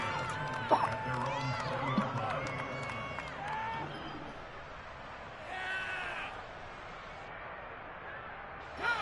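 Stadium crowd noise from a Madden football video game: a steady, moderately loud roar with occasional cheering swells, and a commentator talking over it throughout.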